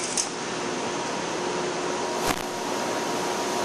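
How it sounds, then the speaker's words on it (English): A Carell A31 series plate roll is rolling metal plate, a steady, loud mechanical drone and whir of machinery that runs continuously with a faint click partway through. "All right, we'll roll this through."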